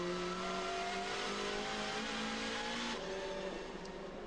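A Chevrolet Cruze touring car races at the Salzburgring, its engine droning at high revs with a steady, sustained tone and a slight shift in pitch near the end, with no voices over it.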